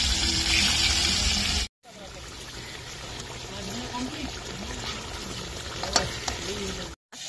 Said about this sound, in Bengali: এবার এখানে আমরা মাছ ভাজা করব।